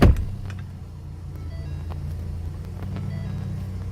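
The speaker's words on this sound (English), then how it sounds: "Now we'll just fire up the vehicle" A 2018+ Ford Expedition engine fires with a brief loud burst at the start, then settles into a steady low idle rumble close by.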